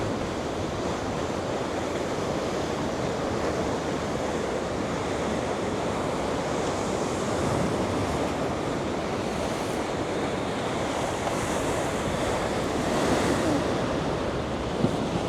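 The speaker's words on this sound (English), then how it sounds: "Some big waves rolling in at the moment." Big ocean waves roll in at San Cristobal the day after a storm, a constant close roar of surf with wind buffeting the microphone and a slightly stronger surge near the end.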